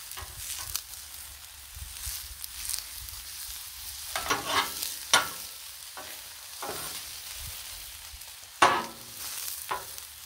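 Vegetables and noodles frying on a Blackstone griddle, a soft continuous sizzle punctuated by sharp metal spatula scrapes and clanks at irregular intervals.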